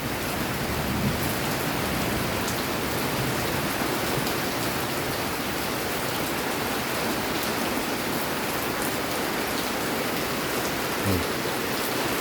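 Steady rain falls outdoors, a dense, continuous hiss of drops on surfaces that holds at an even level throughout, with no voices.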